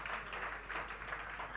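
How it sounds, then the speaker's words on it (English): Sparse audience applause fills a hall during a retail technology talk, a steady, fairly quiet patter of clapping held at one level throughout, with no voices on top. "Can we have a big round of applause, ladies and gentlemen?"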